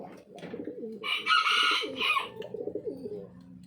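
Pigeons coo in soft, rolling repeated calls close by in a loft, several birds overlapping with a brief burst of wing flutter or rustling in the middle.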